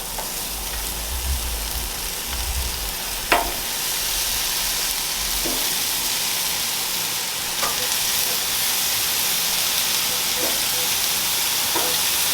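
Pineapple slices searing on a griddle at high heat, an intense steady sizzle running throughout with a few sharp clicks and taps of a utensil against the metal.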